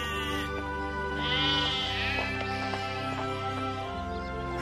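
Sheep bleat repeatedly in a pastoral Bible-story scene, wavering calls layered over a steady musical background, several overlapping voices moderately close with no speech.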